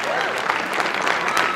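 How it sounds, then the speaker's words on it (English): Audience applause at a Return of the Living Dead anniversary convention panel for Miguel Nunez Jr., a steady, dense wash of clapping filling the room throughout, with some crowd noise mixed in. "ladies and gentlemen, please let's have a big round of applause"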